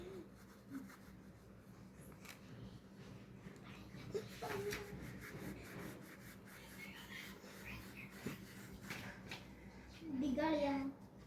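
A child colours grapes on paper with a pencil, making a soft, continuous scratchy rubbing that runs throughout at close range, with an adult and someone talking over it at times.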